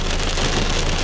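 Pea-sized hail drumming steadily on a car during a spring storm chase, a dense, even patter close by with no voices.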